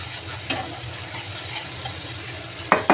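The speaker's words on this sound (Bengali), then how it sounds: "এখানে যে রসুনটা ভেজে নিচ্ছি হালকা" Garlic frying lightly in a pan with ginger, cumin, green and dry chillies and chopped onion paste: a steady soft sizzle close by, with a few brief scrapes or stirs near the end, no talk.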